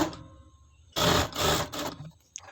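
A domestic sewing machine stitching the edges of a frock runs in two or three short bursts of a second or so each, close and fairly loud. Quiet handling sounds fill the gaps between them.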